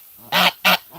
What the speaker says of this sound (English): So the only goose that actually hisses at me is Peach